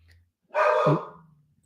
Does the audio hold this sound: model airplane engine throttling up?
no